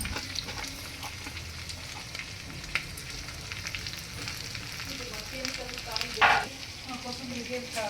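A spoon stirs grated coconut into a sweet bele obbattu filling in a hot pan, soft scraping and light sizzling repeating steadily at close range, with no voices.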